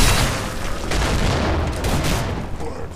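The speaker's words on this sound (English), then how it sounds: "Plus their grenades." Grenades go off in a Painkiller mod shooter game, a loud booming blast followed by rumbling, crackling gunfire-like roar that stays dense for about three seconds.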